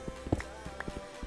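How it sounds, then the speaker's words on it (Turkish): Footsteps on blocks in Minecraft, a series of soft, evenly paced thuds about a quarter second apart, fairly quiet and close, with faint background game ambience and no talking. "Az önce ayak sesi duydum arkadaşlar."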